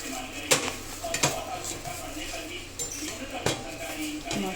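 Palak paneer paratha roasting in ghee on a pan, with sharp metallic clinks of a utensil against the pan at irregular intervals over a low sizzle, close by.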